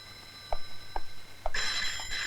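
An old telephone bell rings in short repeated chirps, three quick rings about half a second apart, followed by a brighter, sustained ringing burst, close and fairly clear with no voices.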